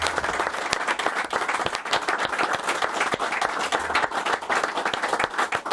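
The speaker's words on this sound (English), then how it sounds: "Give them a round of applause." Sustained audience applause in a studio for a football fan show, dense clapping from many hands, fairly close and loud and steady throughout with no talk over it.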